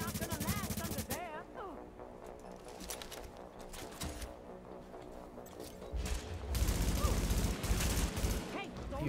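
Gunfire crackles in The Division, with sniper shots among bursts of shooting and clatter, loud impacts swelling toward the end under game sounds and music.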